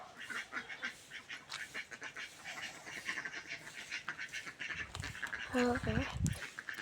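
Ducks quack in a short burst near the end, over steady background murmur and nearby voices.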